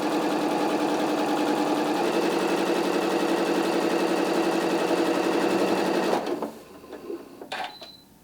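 A sewing machine stitches starched fabric with a fast, steady mechanical whir that runs for about six seconds before stopping, followed by a few faint handling clicks.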